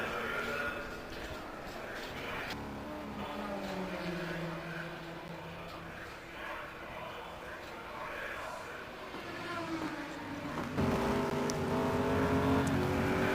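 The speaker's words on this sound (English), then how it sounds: "they are sure driving deep into those braking zones" Race cars in a GT1 racing video game at Donington brake and accelerate, with engine tones rising and falling under continuous commentary. The engine sound grows louder and rises toward the end.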